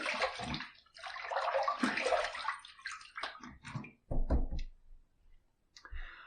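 Safety razor rinsed under a running tap mid-shave, splashing and gushing water in uneven bursts with clicks of the razor against the sink, fading to a few drips.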